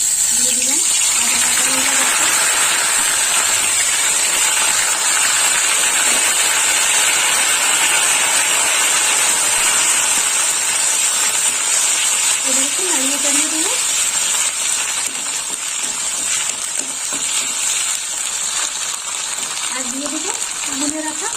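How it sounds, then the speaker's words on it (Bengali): Spices with ginger paste and green chili paste sizzle in hot oil in a pan as the tempering fries. A steady, bright frying hiss runs throughout, loud and close, with brief soft scraping and movement sounds at moments. "ফোড়নটা একটু ভাজা হোক"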